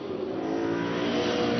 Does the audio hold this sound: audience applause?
no